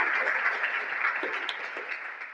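Clapping from a university classroom audience, a dense steady patter of many hands filling the short stretch without speech, gradually easing slightly toward the end.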